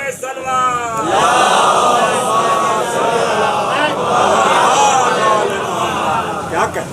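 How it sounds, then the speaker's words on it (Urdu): A mourning gathering at a Karbala majlis answers with loud religious chanting, a dense crowd roar swelling after a leading voice and holding strong for several seconds. "نعرے بلند، نعرے سلوات."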